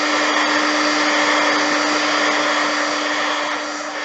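A heat tool blows steadily at close range, heating a layered wood stamp with a loud, constant airy whoosh and a steady motor hum throughout, tapering slightly near the end.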